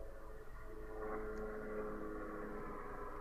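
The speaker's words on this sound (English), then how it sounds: "Oh, police helicopter there." A police helicopter flies overhead, producing a steady, droning rumble that holds level throughout and sounds somewhat distant, with no talking.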